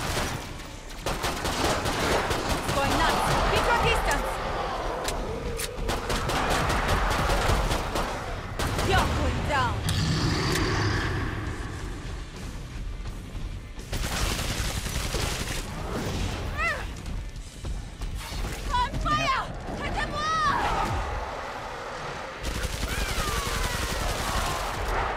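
Sustained MP7 submachine gun fire in Killing Floor 2 during a SWAT challenge, rapid bursts with short pauses, loud and close, mixed with crashes and chaotic game noise.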